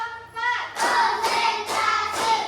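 Children in a classroom clap together in a counted class clapping routine, several loud group claps in a steady rhythm, close and fairly even, with a voice leading before the claps begin.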